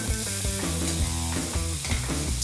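A burger patty sizzles in a frying pan with a close, loud, steady crackle that runs the whole time, with tonal sounds layered over it.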